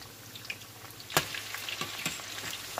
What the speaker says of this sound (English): Fry them on each side for 40 seconds.